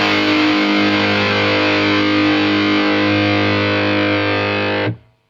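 A loud, heavily distorted electric guitar chord through an Audiostorm Grand Classic Distortion pedal rings out and sustains for several seconds before cutting off abruptly; no talking.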